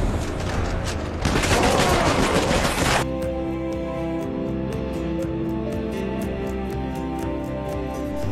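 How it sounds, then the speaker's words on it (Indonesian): Dense gunfire from the 2023 film Sisu, soldiers being shot on a truck: sustained loud bursts of fusillade and machine-gun fire up close, peaking in the first three seconds, then continuing as rapid rhythmic shots under a lower rumbling background. "membabi buta dengan menembak semua tentara yang ada di trek tersebut"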